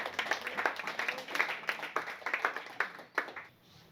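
A church congregation claps in scattered, uneven bursts, applause rising and falling in waves across a few seconds with no voices on top.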